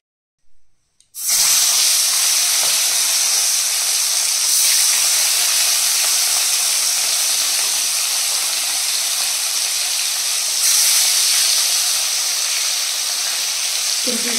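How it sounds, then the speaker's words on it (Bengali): After a second of near silence, a sudden loud sizzle bursts out as fish hits hot oil, then a steady hissing fry continues close by. "চলো এবার মাছ ভাজাটা বসাই"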